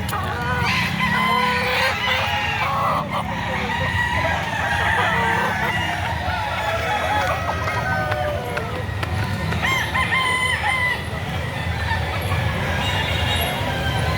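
Roosters crow and chickens cluck at a Saturday chicken market in Lipa City, Batangas, a loud busy din of overlapping fowl calls with people talking nearby.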